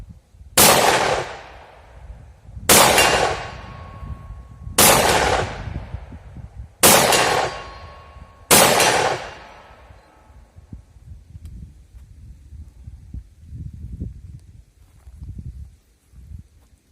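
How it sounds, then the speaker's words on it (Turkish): Five loud, sharp shotgun blasts from an Armsan RS A2 fired at a target, spaced about two seconds apart, each with a short ringing decay, followed by quiet outdoor rustling. "8 tane zannediyorum fişek attım"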